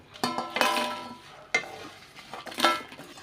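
Dried red chilies dry-roasting in a pan for spicy Tirunelveli idli podi, stirred with a utensil: three scraping, rattling strokes against the pan, moderately close, with quiet pauses between.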